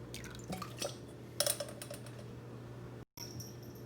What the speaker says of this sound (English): Alright, time for another rinse.